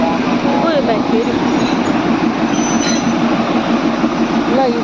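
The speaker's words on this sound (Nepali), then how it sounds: "यो दार्जिलिङको टोय ट्रेन चाहिँ यस्तै छ है साथीहरू" The Darjeeling toy train runs with a loud, constant rumble of wheels and carriages, with occasional thin metallic squeals from the track and indistinct voices mixed in.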